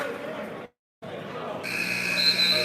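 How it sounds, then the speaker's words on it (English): A referee's whistle at a basketball game sounds as a steady high tone after a brief dropout, over crowd noise and a commentator's voice. "The whistle's called."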